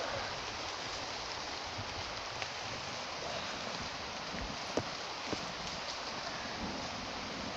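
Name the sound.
rain falling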